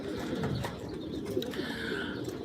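A flock of pigeons coos steadily at close range, soft overlapping calls with occasional chirps and faint wing movement, no talking.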